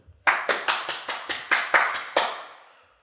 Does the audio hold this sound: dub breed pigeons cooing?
no